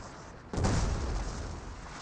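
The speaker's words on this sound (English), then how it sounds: "it looks like they never fixed that sound bug where it still plays like an explosion audio effect there" A glitched explosion sound effect in the Company of Heroes 2 battle game: quiet ambience breaks into a sudden broad boom that lingers as a rumbling tail and slowly fades.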